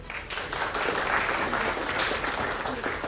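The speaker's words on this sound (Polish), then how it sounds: "Także głośne oklaski" Crowd at a European truck driver competition event in Wrocław gives loud, dense applause, a continuous wash of many hands clapping at once with no pauses.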